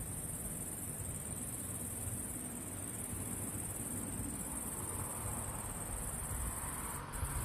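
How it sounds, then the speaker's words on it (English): Steady, dense chirping of crickets fills the air outdoors near Komolac by Dubrovnik, Croatia, a continuous high insect drone holding at even loudness throughout with no voices. "So you reckon these are just locusts and crickets and stuff?"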